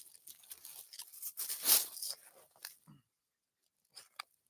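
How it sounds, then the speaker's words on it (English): Crunching and rustling from a metal detector search outdoors, with a sharp loud crunch near the middle and scattered faint ticks afterward, consistent with digging into ground around what may be a buried aluminum can. "Crunch. That sounds like a aluminum can."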